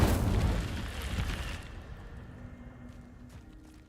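In Hogwarts Legacy, the Incendio fire spell goes off as a loud, bursting whoosh and boom at the start, then rumbles and fades over about two seconds into quieter background sound.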